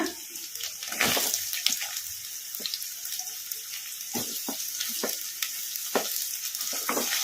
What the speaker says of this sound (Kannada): ಈಗ ಇದಕ್ಕೆ ಉಳ್ಳಾಗಡ್ಡಿ ಹಾಕೋಣ.